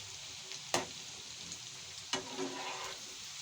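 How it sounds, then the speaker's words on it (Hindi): Macaroni frying in hot oil until golden gives a steady, close sizzle that runs throughout, broken by two sharp knocks from stirring. "इनको हम अच्छे तरीके से फ्राई कर लेंगे,"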